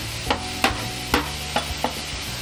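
Shallots, curry leaves and chopped tomatoes sauté in a pan while a spoon scrapes and stirs in five distinct knocks over a steady low sizzle, close by, with no talking.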